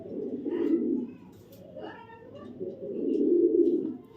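Racing pigeons in a cage coo in low, throaty rolls, two long swells with a quieter gap between, close by and without talk.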